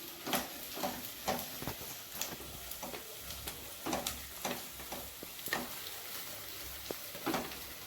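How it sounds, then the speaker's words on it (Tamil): Onions sautéing in a pan for a bread vegetable biryani, a steady soft sizzle broken by repeated light scraping stirs at a fairly even rhythm, close and moderately quiet with no voices. "வெங்காயம் வதங்கி நல்லா போட்டுட்டாங்க"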